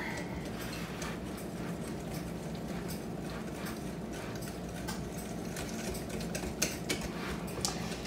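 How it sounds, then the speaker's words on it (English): Muffin batter is stirred in a clear bowl, with steady scraping and clinking of a utensil against the bowl, soft and continuous with scattered sharper taps. "we're going to give this a stir"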